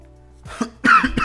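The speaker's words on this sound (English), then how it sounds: "I'm coughing." A couple of short, sharp coughs in quick succession, close and fairly loud, after a brief quiet moment.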